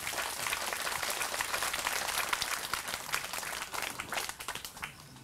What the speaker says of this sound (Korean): 다시 한번 큰 박수로 보내주시면 고맙습니다